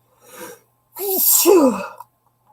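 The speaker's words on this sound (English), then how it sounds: "Now I'm going to sneeze." A single loud sneeze, a soft breathy intake followed by a sharp explosive burst, close to the microphone with silence around it.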